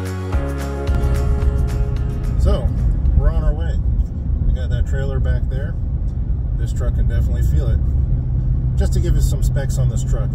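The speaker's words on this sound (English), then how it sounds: "This has the 5-liter V8, which is rated at, I think, 400 horsepower and 410 foot-pound of torque" A 2021 Ford F-150 STX pickup with a 5.0-liter V8 driving on the road, its low engine rumble steady and loud inside the cab while someone talks over it.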